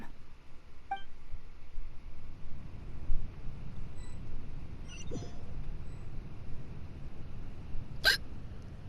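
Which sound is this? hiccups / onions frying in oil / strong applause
hiccups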